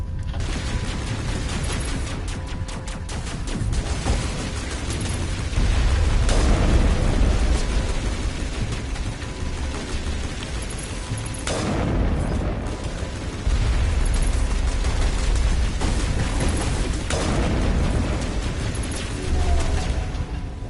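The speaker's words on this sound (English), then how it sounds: "like I said, rocket launcher" Rocket launcher blasts in the Mass Effect video game, several deep booming explosions with rumbling low-end tails amid ongoing combat noise, loud and repeated across the stretch.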